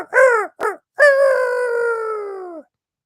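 A voice mimics a rooster's crow: two short clipped calls followed by a long drawn-out crow, loud and close, with no other sounds.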